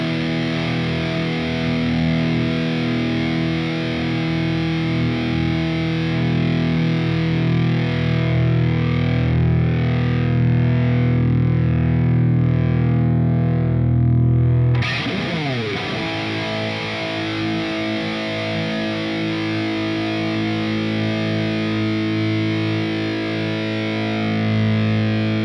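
A Stratocaster electric guitar played through heavy distortion rings out in long sustained chords and notes, loud and close, with one fresh strum about halfway through and no voices.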